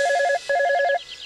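An electronic telephone rings in two quick warbling bursts, close and loud, with a short gap between them.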